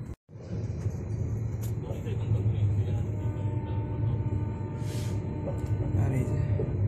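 A moving train on the Pune to Kolkata route rumbles steadily from inside the carriage, a loud, low, continuous roar with a brief dip at the very start and occasional rattles over it.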